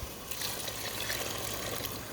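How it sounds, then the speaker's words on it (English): Hot water pouring steadily over rice and beans in a pot, a continuous close liquid wash and trickle lasting the whole moment with no talking. "pour it in until it's about 1 inch over the top of the rice"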